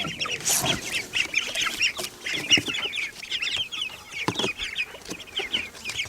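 Ducks at a garden pond give repeated close quacks and clucking calls in a busy, overlapping chorus, with some rustling and movement throughout.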